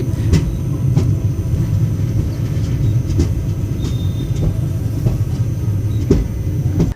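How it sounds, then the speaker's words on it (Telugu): Special train 07219 on its inaugural Narasapuram to Arunachalam run rumbling into Vijayawada Junction, a steady loud rolling roar with rhythmic wheel clacks over rail joints every second or so, no talking. "ఇప్పుడే మన ట్రైన్ విజయవాడ జంక్షన్లోకి ఎంటర్ అవుతోంది"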